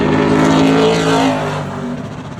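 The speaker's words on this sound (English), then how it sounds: "This is the number 71 of Luke Yarborough" A Pro Late Model race car, number 71, roars loudly past during qualifying at Crisp Motorsports Park, its engine a dense, close drone that gradually fades and softens toward the end.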